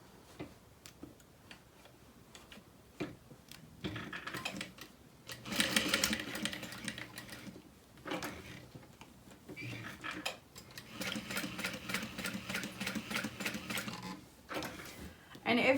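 A sewing machine stitches handbag strap connectors in short bursts of fast, rattling clicks, stopping and restarting between quieter pauses with light handling sounds.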